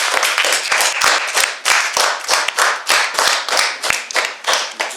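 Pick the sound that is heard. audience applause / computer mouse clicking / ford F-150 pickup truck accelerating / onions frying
audience applause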